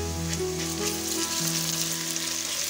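Onions browned in a pan sizzle steadily with garlic-ginger paste added while a chicken feet curry is being cooked, a continuous close, fairly loud frying hiss with no talking.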